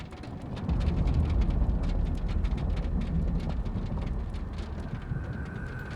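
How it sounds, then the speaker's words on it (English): Black hail pelting down in the video game Mundaun, a dense crackling patter of many small impacts that swells in after a moment and then holds steady, loud and close, with a low rumble underneath. "So this is hail. Black hail, not rocks."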